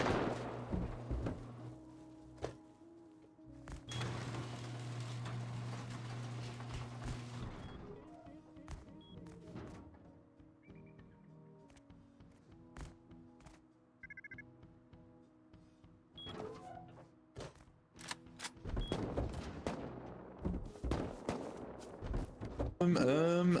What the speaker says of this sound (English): Is that an auto turret out there or person shooting?